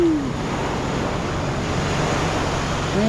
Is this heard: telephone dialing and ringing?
no